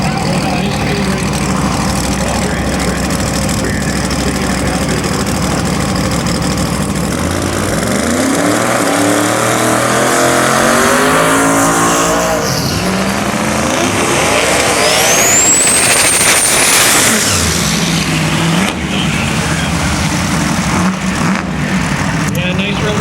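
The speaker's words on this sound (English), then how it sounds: "nice rubber laid down by Bo." Loud roaring drag racing cars launch down a 1/8-mile strip at a heads-up PSCA XDR race and scream past, revving hard with a rising whine, under excited commentary from an announcer.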